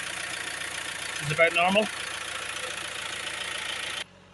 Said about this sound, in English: I'm going to start the engine